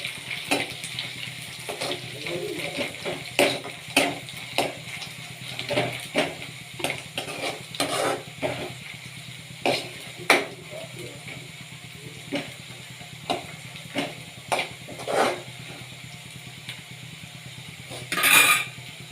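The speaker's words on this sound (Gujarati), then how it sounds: "હવે તે બ્રાઉન કલરની થાય ત્યાં સુધી આપણે તેને સાતડશું હવે આપણે એમાં એડ કરશું મગફળીના દાણા કારણ કે એને પણ તેલમાં આપણે સાતડવાના છે" Onions and peanuts sautéing in oil in a pan until brown, a steady sizzle punctuated by frequent rhythmic clacks and scrapes of a spoon against the pan, close and clear.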